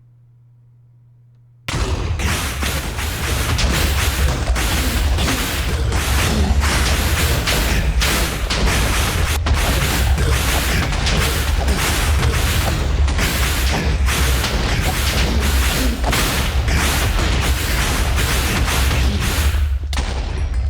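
Wither boss explosion in the Minecraft Enigmatica 2 modpack: after a brief quiet start, a loud, dense barrage of booming blasts and rumbling thuds erupts and continues relentlessly, near and overwhelming.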